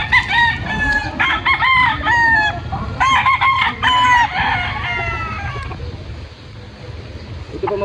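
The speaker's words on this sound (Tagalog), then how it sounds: "isang kanawayan po na cross sa Boston mga bossing. Stag." A Kanawayan x Boston cross gamefowl stag crows loudly and close by, giving several overlapping cock-a-doodle-doo calls in quick succession with a few clucks between them over a steady low background rumble.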